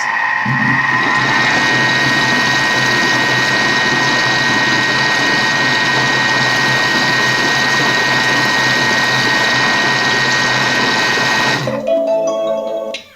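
A Thermomix stirs chocolate dessert cream at speed 4: a steady, loud motor whir with a churning hum runs for about twelve seconds and then stops abruptly, leaving a few faint clicks.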